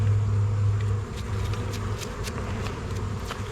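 A low, steady hum of bees stirred up after being brushed off combs in front of a Layens hive during a fall inspection. Scattered soft knocks and rustles sound over a close, continuous drone.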